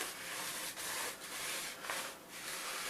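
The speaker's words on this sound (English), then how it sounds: "So with this pipe cutter, and this being aluminum, this goes fairly quick." A pipe cutter works around an aluminum tube, making soft, rhythmic rasping strokes that repeat every fraction of a second, close and fairly quiet, with no voices.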